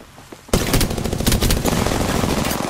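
Sudden heavy gunfire erupts after a short quiet moment in Apex Legends, rapid automatic bursts aimed at the player, loud, close and sustained to the end.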